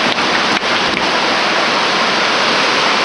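Heavy rain pours down steadily outside near a 930 Case Wheatland tractor, a dense, loud, continuous hiss filling the whole stretch with no voices.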